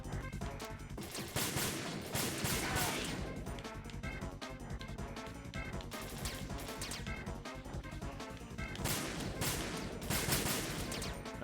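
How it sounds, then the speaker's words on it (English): Sniper and other gunfire in Metal Gear Solid 2, a rapid barrage of loud cracks and crashing impacts in dense bursts with a short lull in the middle, busy and close throughout. "I'm getting myself shot, and there's snipers up here"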